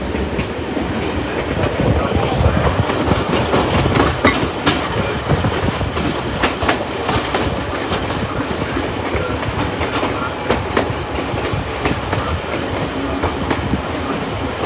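A SteamRanger heritage railway train rolls along the tracks, a steady loud rumble of carriages with rhythmic wheel clicks and rattles, near and continuous with no speech.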